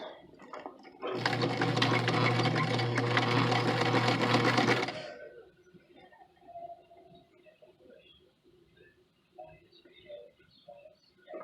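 A sewing machine stitches fabric for a pair of pants in one steady, loud run of about four seconds, then stops, leaving quiet handling noises and faint bird chirps.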